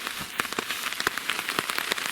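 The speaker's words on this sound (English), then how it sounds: "Weather's like you see. Rainy." Rain falling in a taiga forest, a steady hiss of drops with scattered sharper taps on nearby surfaces, constant and close, with no voices.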